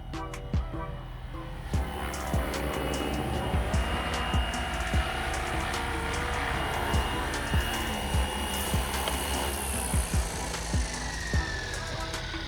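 A small Flywing Bell 206 RC helicopter whines steadily as it comes in to land, its motor hum joined by regular ticking pulses, close and continuous throughout.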